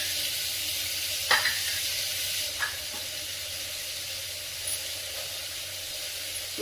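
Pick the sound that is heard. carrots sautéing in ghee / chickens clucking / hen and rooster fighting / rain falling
carrots sautéing in ghee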